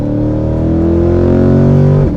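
A 2020-2026 Chevrolet Corvette C8 fitted with a Borla exhaust drones loudly and close, its engine note rising steadily under acceleration before the pitch drops sharply at the end as it shifts or lifts off.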